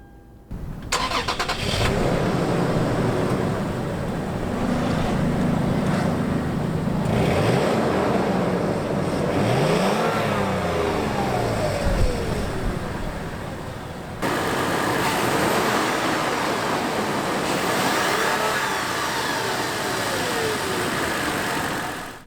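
A 2016 Toyota 4Runner's V6 cranks and fires, then settles into a steady mid-pitched idle that runs alone for about twenty seconds, with a brief rev partway through and no talk over it.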